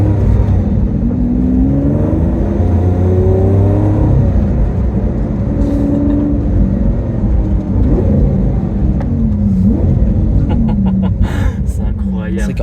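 A Lamborghini Aventador engine holds a steady loud drone with rising and falling pitch sweeps as it accelerates and shifts gears on a road. A few faint clicks come near the end.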